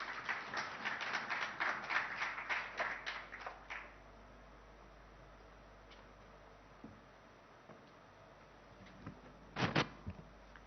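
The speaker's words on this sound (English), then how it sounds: "Can we have a round of applause?" Scattered applause from the audience at a German investor summit at the Taj Krishna hotel, a few seconds of moderately quiet clapping that thins out and stops, leaving a hushed hall with a couple of faint knocks.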